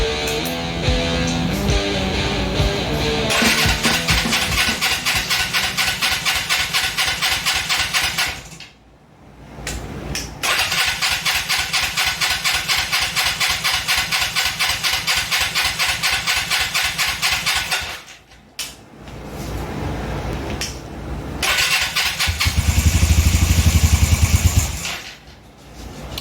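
A motorcycle engine, carburetor just refitted and running for the first time, cranks, catches and runs in rough rapid bursts with several brief stalls and restarts, loud and close, revving harder near the end.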